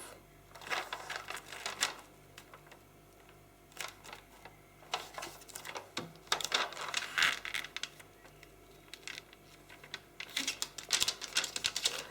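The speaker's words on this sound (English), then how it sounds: "We're going to start by folding diagonally in half." Origami paper, white side up, is folded diagonally in half, giving soft close crinkles and rubs of the sheet and faint taps, with a steady low hum underneath and nobody speaking.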